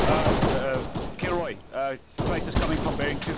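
Gunfire bursts in the military shooter ARMA 3, loud and close, with broken rattling shots spread across the moment and radio-style voices talking over them.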